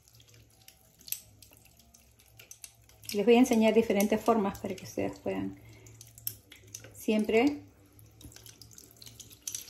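Tap water runs into a sink while makeup brushes are rinsed, with bursts of flowing, splashing water between quieter stretches and someone speaking Spanish over part of it.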